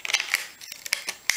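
Scissors snip through the trim of a cardboard box, several quick crisp cuts close up in a quiet room, with no talking.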